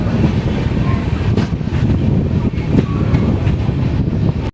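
The Pothigai Superfast Express at a station crossing in Tamil Nadu, a loud continuous rumble of moving rail cars with wind buffeting the microphone, ending abruptly.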